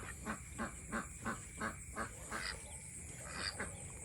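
Ducks on a farm honking in a quick repeated series of nasal calls, about a dozen in a row, faint and somewhat distant over background hiss.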